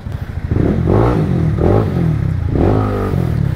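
A 195cc motorcycle engine revved up close in three quick blips, each throttle burst rising and falling over a rough idle.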